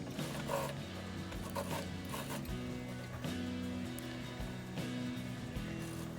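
An electric sewing machine stitches around the neckline of a 38-size half-collar-neck blouse, a steady close mechanical whirring with rhythmic needle ticking, running continuously with brief pitch shifts as the speed changes.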